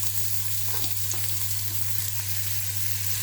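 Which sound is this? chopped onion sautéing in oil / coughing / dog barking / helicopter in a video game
chopped onion sautéing in oil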